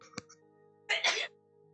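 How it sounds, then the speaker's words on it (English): A single short human sneeze bursts out close and moderately loud after a brief breathy catch, then quiet. "Sorry, I just sneezed. Came out of nowhere."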